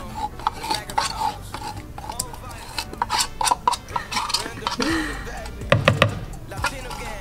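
Metal spoon scraping sweetened condensed milk out of a can while making flan, irregular clinks and scrapes in quick bursts, close and fairly loud, with a voice speaking briefly among them.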